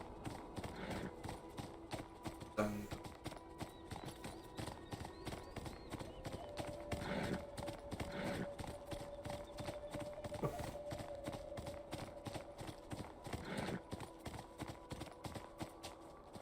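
A pony's hooves clip-clop in a steady, even rhythm on a farm in the video game Beyond Two Souls, the repeated soft thuds continuing throughout at moderate volume over faint background ambience.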